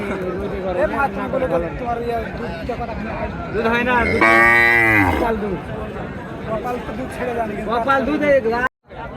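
Cows and calves low at Chaubaria cattle market in Naogaon, with one long, loud moo standing out midway over steady crowd chatter and nearby voices talking throughout.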